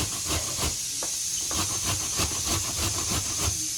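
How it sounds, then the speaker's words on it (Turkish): An onion rubbed against a grater, producing a steady hissing, scraping rasp with rhythmic strokes repeating about every quarter second, close and continuous. "2 tane de soğan rendeleyecek."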